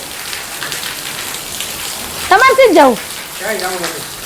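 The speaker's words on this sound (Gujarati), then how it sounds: "અત્યારમાં તો વરસાદે જમાવટ લીધી છે હો" Dense, steady rain patters loudly on a surface throughout, with a couple of brief spoken phrases rising over the downpour.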